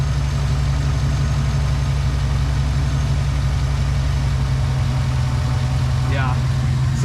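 A car engine idles smoothly and steadily after repair of its ignition system, which had a misfire. The low rumble is loud and continuous, with exhaust tone in it, and a person talks over it.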